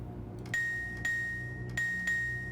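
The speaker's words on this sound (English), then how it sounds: "A bell and a clang." In the video game Riven (2024 Remake), a bell rings three times at a steady pace, each a bright, ringing tone with a sharp metallic clang at the start that fades before the next, heard alone over a soft ambient hum.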